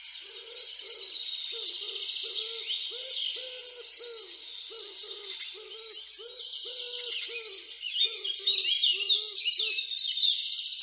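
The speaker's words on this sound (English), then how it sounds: "here's the song of a wood pigeon for you" A wood pigeon's low, hooting coos repeat in steady phrases of several notes, near and clear, while high twittering birdsong runs continuously behind them.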